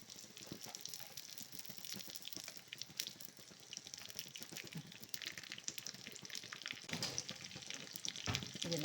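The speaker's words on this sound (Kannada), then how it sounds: "ಈಗ ಬಾದಾಮಿ ಗೋಡಂಬಿ ಎಲ್ಲ ಫ್ರೈ ಆಗಿದೆ" Almonds, cashews and raisins frying in a pan for kashi halwa, giving a steady close crackling sizzle with scattered pops and stirring scrapes throughout.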